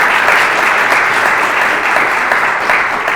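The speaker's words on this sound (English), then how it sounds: "please, a big round of applause for our County Executive" Sustained applause from an audience honoring County Executive Bruce Blakeman at a community event, a dense steady wash of clapping hands lasting throughout with no pauses.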